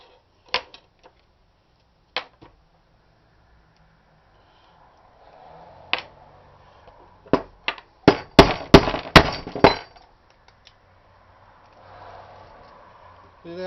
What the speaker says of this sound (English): give it a couple light taps with a hammer